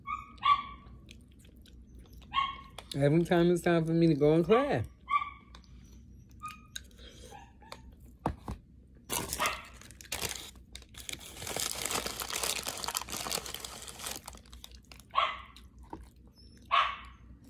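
A dog barks in short, loud bursts indoors, with a run of sustained whining and howling in the middle and later barks mixed with rustling and crinkling. A person speaks briefly and quietly.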